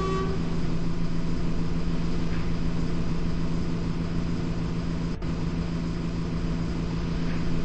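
London bus engine idling at a stop while held to regulate service, a steady low rumble and drone running throughout with one brief click near the end and no talk.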